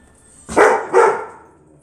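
A dog barks twice in quick succession, two loud, close woofs about half a second apart with quiet between them.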